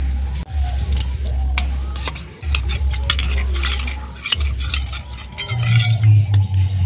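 Cornflour is stirred with a little water in a steel bowl, the spoon scraping and clinking against the metal in a steady run of light taps, with no voices.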